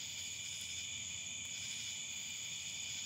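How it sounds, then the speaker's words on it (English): Steady high-pitched cicada buzzing drones on without a break, a constant night chorus at moderate distance in an otherwise quiet setting. "Besides the cicadas, it's quiet."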